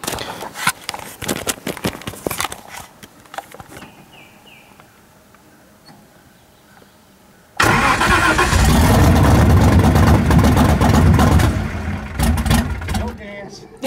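A race car engine with changed pump cams and rocker arms fires up after a quiet stretch with faint talk, then roars loudly and steadily for several seconds before easing off.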